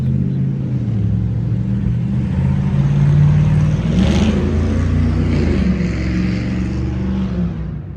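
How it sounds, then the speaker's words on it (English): A truck with no exhaust system drives past, a loud, rough low rumble that swells as it nears and passes, then slowly fades away. "It's a stupid truck with no exhaust on it."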